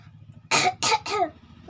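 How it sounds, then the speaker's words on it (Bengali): Three quick, forceful coughs in a row, close and loud, with a faint low hum in the background. "কাশি হয়ে গেছে।"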